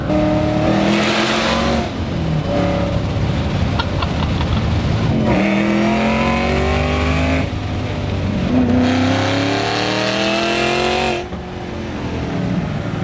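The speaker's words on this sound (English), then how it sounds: "accelerate very quickly to a very high amount of speed" A 2008 Shelby GT500 engine revs hard and accelerates repeatedly, pitch climbing through gear after gear, loud and close, with brief dips between shifts.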